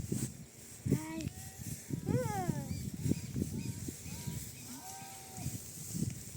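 On a Brazilian farm where cattle are being herded on horseback, several drawn-out moos rise and fall over about six seconds. A person calls out intermittently among them against an open outdoor background.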